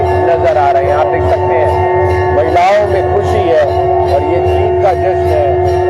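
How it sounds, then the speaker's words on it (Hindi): Bells ring continuously at an outdoor Holi celebration gathering, a sustained metallic tone running beneath a man's loud, steady talking and the busy festive crowd. "ये आप घंटियां सुन पा रहे हैं"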